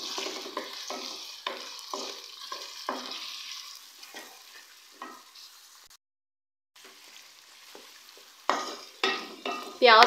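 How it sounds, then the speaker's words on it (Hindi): Two medium onions frying in a pan for chicken masala, a steady sizzle broken by repeated scraping stirs of a utensil, close and fairly loud, with a short silent gap midway. "प्याज का हल्का सा सुनहरा कलर आने तक हम प्याज को फ्राई करेंगे।"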